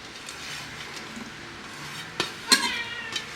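Chopped onion drops into a Nutripot electric cooking pot with a couple of brief, soft clattering knocks near the end, over a quiet kitchen background.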